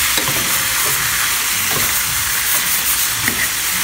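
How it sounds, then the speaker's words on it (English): Food stirred in a pot over strong heat during home dinner preparation, with a loud, close, continuous sizzle and hiss and soft scraping of the spoon underneath. "we're just gonna stir it up a little bit."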